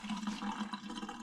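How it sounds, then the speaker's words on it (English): Water pours steadily into a cooking pot, a brief, continuous splashing fill at moderate loudness. "So I just put me a little water in this pot"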